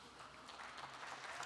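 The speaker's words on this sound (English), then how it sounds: "She'll be very happy with that round of applause." Audience applause at a Dublin Tech Summit talk, a brief, steady patter of clapping from a crowd, fairly soft and distant, with no voices over it.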